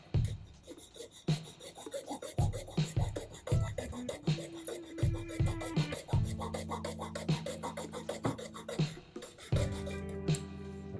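A resin scale model part being sawn or cut by hand, a series of short rasping strokes with an irregular rhythm, close and fairly quiet, with tonal squeaks creeping in over some strokes.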